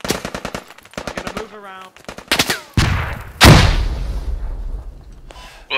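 Video game gunfire in a squad shooter match: rapid bursts of automatic weapon fire followed by heavy booming shots, loud and close, with players talking briefly over the shooting.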